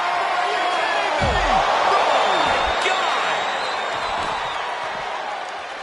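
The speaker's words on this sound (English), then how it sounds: "where you can't hear yourself think because the crowd's so loud" A roaring wrestling arena crowd fills the space with a dense, continuous wash of noise during a WWE ambulance match, with sharp slams and thuds cutting through and a commentator talking over it.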